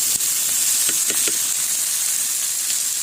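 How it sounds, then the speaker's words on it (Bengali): Onion, garlic and prawns frying together in a pan, a loud steady hiss of sizzling oil with a few brief stirring clicks, close and without speech. "পেঁয়াজ রসুন আর চিংড়ি মাছটা ভাজা ভাজা হয়ে গেছে"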